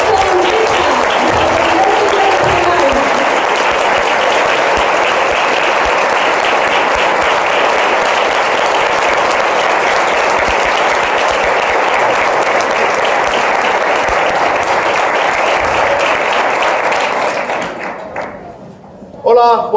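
A standing audience at a business training event in Madrid gives loud, sustained applause, dense and even for many seconds before it fades out near the end, with a voice starting just after.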